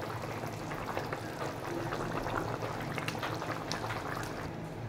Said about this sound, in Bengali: মাছগুলো দেওয়ার পর এরকম হাই ফ্লেমেই ফোটাবো।